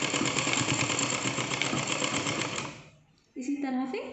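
Electric sewing machine stitching a small Laddu Gopal deity dress, a dense steady whirring rattle for under three seconds that then stops, followed by a brief voice.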